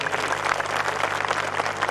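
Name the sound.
loud audience applause for dancers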